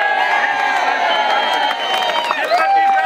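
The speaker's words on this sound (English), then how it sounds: "give them a big round of applause" A crowd at an outdoor rally against an Anglesea coal mine cheers and whoops loudly and steadily, with scattered shouts and claps throughout.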